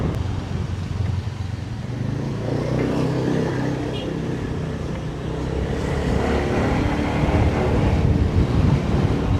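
Steady engine drone and road rumble from a moving motorbike, heard riding pillion down to the beach in Sanur, with wind noise, continuous and close throughout.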